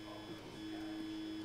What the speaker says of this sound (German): In der Nacht habe ich keine Lust, den Drucker laufen zu lassen.